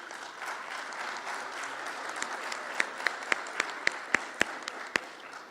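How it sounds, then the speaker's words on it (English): An audience at a Dominican Republic event in Jamaica applauds steadily, with a soft dense wash of clapping and a few sharper individual claps standing out near the end. "Let me give you a very great applause for this wonderful labor."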